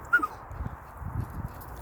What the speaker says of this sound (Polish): Jack Russell Terrier.